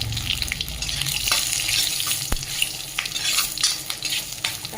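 Panch phoron spices sizzle in hot oil for a mixed vegetable dal, a loud, close, continuous crackle with busy stirring scrapes and one sharp clink midway, no voices.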